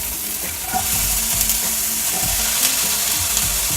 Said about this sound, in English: Love that sound when it hits the hot pan.